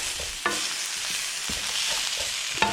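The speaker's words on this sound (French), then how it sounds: "je suis en train de faire frire, non, à feu vif, hein. Feu vif, les artichauts" Artichokes fry over high heat in olive oil with a constant loud sizzle close by, broken by a few sharp clicks of stirring and no talk.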